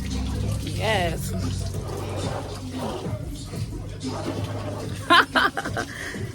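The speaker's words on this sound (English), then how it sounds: "turn off the water" Water runs from a tap during washing outdoors in Jamaica, a soft continuous splashing stream under voices, with a couple of sharp clanks near the end.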